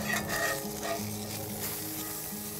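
Ahi tuna belly searing in a hot oiled pan, a steady loud close sizzle with faint stirring and pan clatter, no voices.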